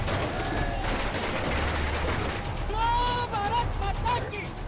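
Fireworks go off at a street celebration of a ban on an organization, with dense, continuous crackling and popping bursts and whistling rockets, loud and close, with voices mixed in.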